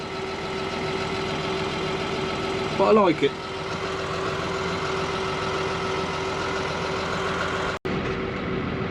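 A steady engine idles with a constant hum throughout, while a person briefly speaks partway through.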